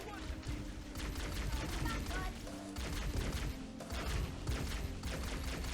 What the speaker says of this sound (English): Why are you shooting at him with the pea shooter?